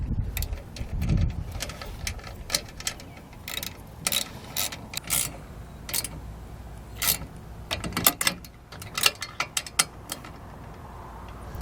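A ratchet tightens the mounting bolt of a MaxxTow MaxxHaul hand winch, giving close, crisp clicking bursts in irregular runs with short pauses between strokes.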